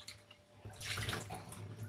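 Tap water splashes steadily over frozen shrimp being rinsed for a string bean stir-fry, starting softly and then running as a continuous close hiss for about a second.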